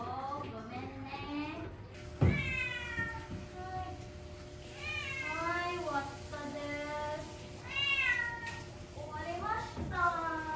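A cat meows repeatedly at close range, a string of drawn-out rising and falling cries in several bursts, with a voice talking over it.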